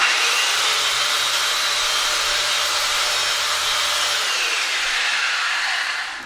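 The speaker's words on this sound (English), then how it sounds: "my old Bosch sander, which again is an ancient power tool" An old Bosch electric sander sanding wood whirs at a constant high pitch, loud and close, running steadily before winding down at the end.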